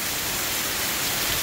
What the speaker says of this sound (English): You can see that the rain's just pouring right over the top of them right now.